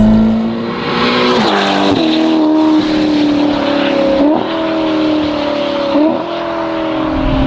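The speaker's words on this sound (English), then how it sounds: "it doesn't really have a rear muffler because Ferrari never bothered putting one in there. And that's so awesome because the sound is now mental" A Ferrari engine with no rear muffler revs loud and raw, its pitch climbing and dropping in repeated sweeps with sharp shifts, very close and dominating, no voices.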